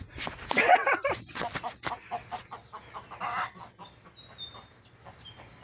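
Clucking from a pet rooster kept with a small backyard flock, close by and fairly loud at first, then softer intermittent clucks over faint background noise, with a few high thin bird chirps near the end.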